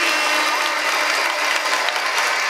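Children applaud at a public school excellence awards ceremony in Mbouh, producing steady, dense clapping that stays loud and even throughout, with no talking over it.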